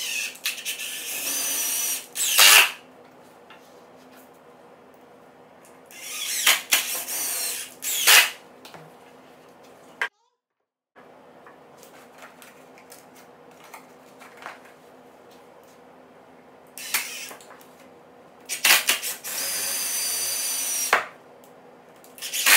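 A power drill drives screws into wooden boards for a simple bowyer's bench, in several separate bursts of whirring, each a second or two long, with quiet pauses between them.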